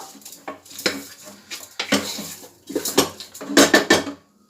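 Metal spoon scraping and clattering against a pot while chicken curry is mixed with coarse salt, in several bursts of close, loud stirring with brief pauses between strokes.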